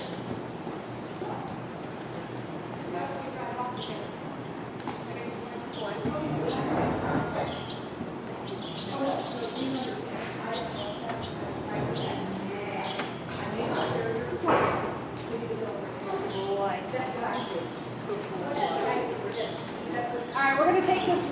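A volunteer mounted posse's horses walk on the ground, their hooves clip-clopping irregularly at moderate distance under almost constant talk from several people outdoors.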